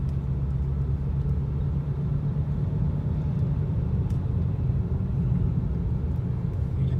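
BMW 335i M Sport with the N54 engine cruising a small road at about 1,000 RPM on barely any throttle, giving a steady, smooth low engine rumble that holds throughout with little road noise and no talk.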